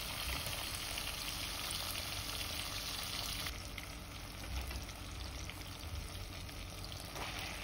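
Tomatoes cooking in a pan for sardine curry, a constant soft sizzle and bubbling hiss, quiet and close, with no voices.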